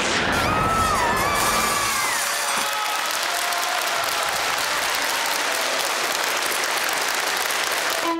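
Sustained, dense applause from a large concert audience fills a hall at the close of an orchestral performance, steady and loud throughout, with a few fading musical tones at the start.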